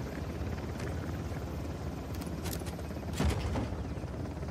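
Helicopter in the video game Uncharted: The Lost Legacy, a continuous rotor whir with brief sharp bursts of gunfire-like cracks near the end, no speech.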